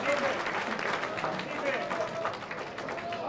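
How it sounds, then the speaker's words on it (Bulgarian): Stadium crowd clapping for a footballer at a benefit match, a continuous wash of applause with a voice talking over it. "Благо Бланга сега получава аплодисменти"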